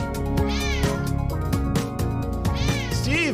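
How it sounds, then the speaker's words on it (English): Many cats meowing and caterwauling at once, overlapping yowls with rising and falling pitch, loud and close throughout with no pause. "Just me and 50 cats throwing it down, making all kinds of sounds."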